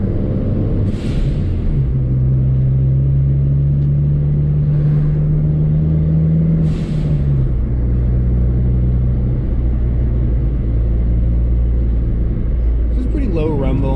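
Steady low exhaust rumble from a Ford Focus ST with a Mountune exhaust and resonator delete cruising through a neighborhood, with a deep droning tone that holds for several seconds before shifting.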